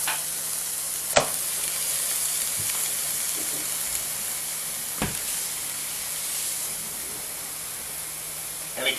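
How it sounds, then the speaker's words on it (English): Pork chops browning in a pan give a steady, even sizzle that runs the whole way through, with a couple of sharp clicks of utensils against the pan. "You basically just have to brown the pork chops"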